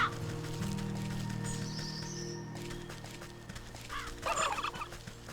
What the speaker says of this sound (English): Oh, I think that turkey's about to attack me.